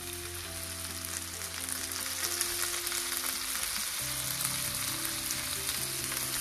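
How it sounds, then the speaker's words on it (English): Onions fry in butter in a pan, making a continuous close sizzle with busy crackles and a few stirring scrapes, moderately loud and with no talking. "First, let's add onions."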